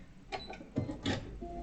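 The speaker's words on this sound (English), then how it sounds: "I'm going to lock stitch that so I can just trim it off at the back." Sewing machine lock stitching quilted fabric for a table mat, a few short quiet mechanical bursts of stitching in quick succession, no talking.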